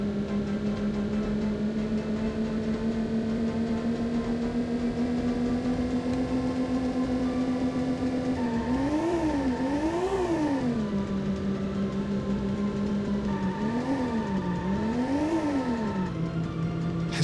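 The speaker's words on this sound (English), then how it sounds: "Drifting like that. Full drifting power." Whining engine tone of a race car in the PS1 racing game C1 Circuit, a steady buzzing drone that rises slowly, then warbles up and down twice in two bursts as the car drifts through corners.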